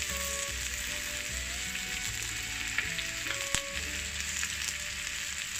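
Chicken slices stir-fried with green and red bell peppers in a hot wok, a dense continuous sizzle with scraping and tossing sounds layered over it, loud and close.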